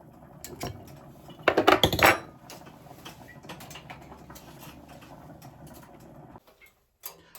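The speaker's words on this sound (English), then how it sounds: "I'm going to cut this in front of you just to show how crispy it is" A knife cuts through crispy gluten-free fried chicken, giving a short burst of close crunching around the middle, set among faint scattered clicks and kitchen taps, then near silence at the end.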